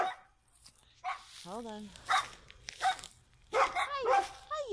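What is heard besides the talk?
neighborhood dogs barking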